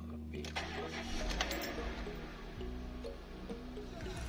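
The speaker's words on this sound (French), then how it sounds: "Super, le moteur démarre" A car engine turns over after a battery replacement and settles into a steady, low rumbling idle, loud and close, with faint clicks and rattles on top.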